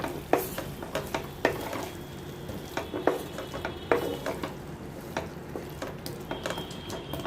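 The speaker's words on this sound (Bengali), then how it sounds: "তারপরে এগুলোকে আবারও এইভাবে নেড়ে চেড়ে দেব।" Katla fish curry with potatoes being stirred in a pan, a soft sizzle under a run of sharp spatula scrapes and taps against the metal, close and moderately quiet.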